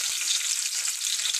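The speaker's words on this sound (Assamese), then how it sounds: "এতিয়া মই তেলখিনি গৰম হোৱাৰ পাছত এই থেতালি লোৱা নহৰু কেইফুটা তেলত দি লওঁ" Crushed garlic cloves frying in hot oil in a pan, a steady, close bright sizzle that holds evenly throughout.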